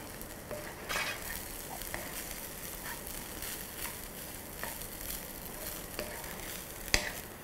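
Szechuan fried rice sizzling steadily in a hot pan, a soft continuous crackle with occasional clinks and scrapes of a utensil stirring the rice.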